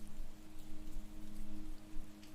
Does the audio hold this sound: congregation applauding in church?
no